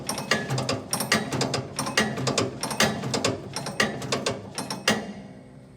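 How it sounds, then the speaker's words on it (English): A crank arm is pulled to ratchet the apron chain on a Loyal 23-bushel manure spreader, giving a close, steady run of sharp metallic clicks in uneven bursts for several seconds before stopping. "Pull on the crank arm until a flight lines up between the red dot and the first bolt."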